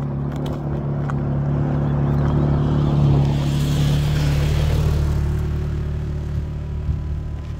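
A motorcycle rumbles past outdoors, its engine noise swelling loud and close at the middle and then easing away, with a steady low drone throughout.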